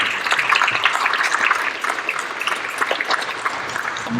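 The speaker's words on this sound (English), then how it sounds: "let's give these guys a round of applause for their hard work" An audience applauds a high school band at a spring concert in a hall, with a dense, steady clapping that holds at an even level and eases off slightly near the end.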